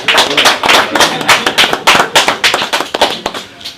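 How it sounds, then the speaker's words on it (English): Loud, close clapping from a small gathering applauding a treasurer, with distinct sharp individual hand claps in an uneven, rapid rhythm rather than a smooth wash, tapering off near the end. "A round of applause"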